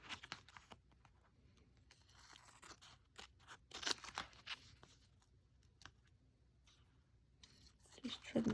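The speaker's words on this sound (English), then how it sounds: "Just trim this down." Vinyl being trimmed with scissors or a craft cutter, removing registration boxes from layered vinyl, giving soft intermittent snips and crinkles that are faint and close with quiet pauses between cuts.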